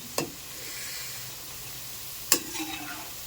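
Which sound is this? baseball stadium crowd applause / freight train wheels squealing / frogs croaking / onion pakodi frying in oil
onion pakodi frying in oil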